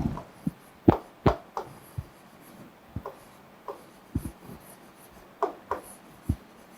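A teacher writing the words Lion Capital in a kindergarten lesson: soft, short scratchy strokes in an irregular rhythm, close and fairly quiet against a faint room hum.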